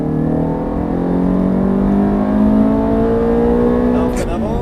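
Race car at Mettet circuit accelerating at full throttle, a loud sustained engine note rising steadily in pitch close by, with a brief shift or change near the end and someone talking over it.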